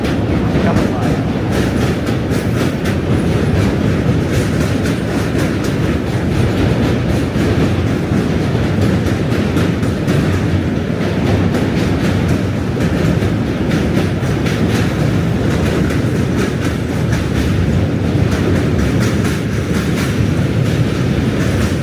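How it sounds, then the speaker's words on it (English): A train rumbles past close by in New York City, a loud, continuous roar with rapid rhythmic clicking of wheels over the rails that never lets up. "Oh, here's a train. Huge train."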